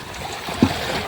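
Clear water laps and trickles against the stones of a rocky beach as people step off a boat, a soft, continuous wash with one brief splash midway.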